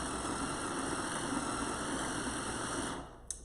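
A kitchen chopping appliance running at its highest speed, a loud, steady, close motor whine with a sustained buzz that cuts off near the end with a small click.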